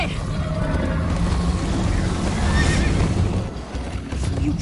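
A horse whinnies loudly over steady hoofbeats and rushing noise in Minecraft, a dense, full soundscape with no voices.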